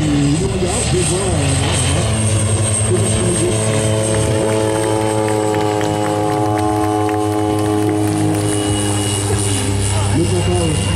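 A propeller aircraft flies past at an air show in Lens-Bénifontaine with a loud, droning engine whose pitch rises and falls as it passes, while people talk nearby.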